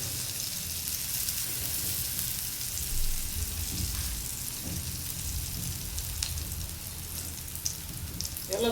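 Gram flour flatbread cooking on a pan over a low gas flame, giving a steady soft sizzle and hiss throughout with faint occasional crackles.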